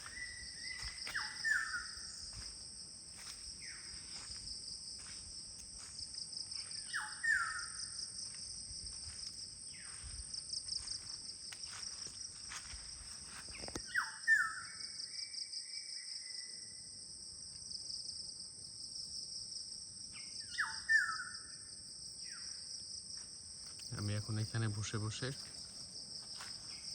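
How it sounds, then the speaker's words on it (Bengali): Crickets trill steadily throughout at a guest house in Kulaura, Moulvibazar, Bangladesh, while a bird calls in short repeated bursts every few seconds; someone speaks softly at one point. "ঝিঝি পোকার ডাক, পাখির ডাক আর বানরের ডাক শুনছি"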